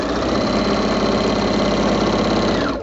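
A sewing machine runs steadily as it stitches through already-quilted rag quilt fabric, a continuous close mechanical hum and rapid needle chatter that holds loud and even without pause for about three seconds.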